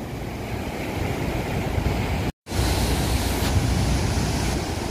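Large sea waves roll in at Holtekamp beach in Jayapura, Papua, a loud, steady roar of surf mixed with wind buffeting the microphone, continuous apart from one brief dropout.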